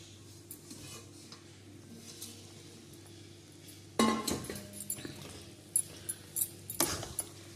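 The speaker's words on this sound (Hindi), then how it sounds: "अब डाल देंगे हम कुछ ड्राई फ्रूट्स इसमें।" Dry fruits dropped into carrot halwa in a pan, producing a burst of clinks and scrapes of a spoon against the pan, quiet before and then several close, sharp taps and stirring sounds.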